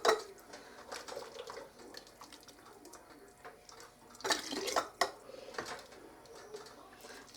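Thick stuffed pepper soup ladled and poured into quart canning jars, with wet splashes and drips in uneven bursts, a louder pour partway through, close and fairly quiet.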